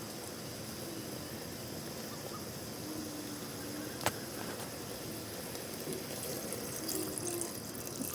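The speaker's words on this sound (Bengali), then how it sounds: "ছোট কাপে 1 কাপ মতো জল দিয়ে দেব।" Water from a small cup is poured into a pressure cooker while cooking a quick jhatka dish, a soft, continuous splashing trickle, faint and close, with no talk.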